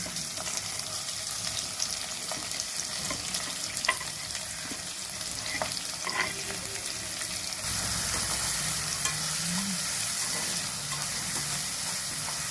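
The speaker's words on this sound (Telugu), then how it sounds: "ఆవాలు వెళ్ళిపోయి ఆవాలు చుట్టుపట్ల ఆడిన తర్వాత ఇవన్నీ వేయాలి పచ్చిమిరపకాయలు ఉల్లిపాయలు" Mustard seeds, green chillies and onions fry in a pan for an Andhra prawn and okra curry, giving a continuous close sizzle and crackle that swells louder partway through, with occasional light stirring clicks.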